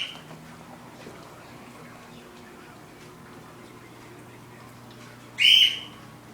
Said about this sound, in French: Ils sont sortis de leur cage puis ils volent partout.